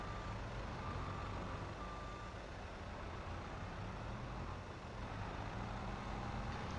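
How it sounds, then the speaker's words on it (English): A truck in Farming Simulator 22 backs up with steady reversing beeps over a low, continuous engine rumble, fairly quiet and unbroken, with no talk. "Oh, hey, that's a truck."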